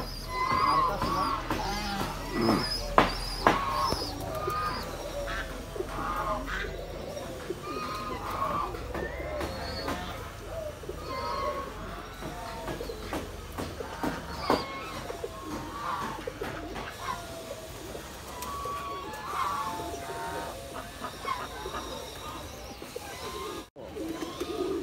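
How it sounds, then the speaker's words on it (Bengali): Pigeons of many breeds coo repeatedly on a mixed farm, soft rolling calls scattered over a long stretch amid other birds chirping, with people talking faintly at times. "এখানে সব জাতের কবুতর আছে"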